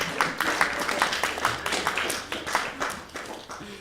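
Scattered audience clapping as a volunteer makes his way onto the stage at a magic talk, a steady patter of hand claps with some voices mixed in, moderately loud and fairly close.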